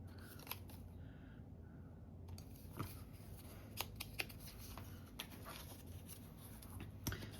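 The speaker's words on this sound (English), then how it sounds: "So we're going to trim it right there." Scissors trim a paper scrap in a quiet room, with a few soft, separate snips and light paper rustling at a low level.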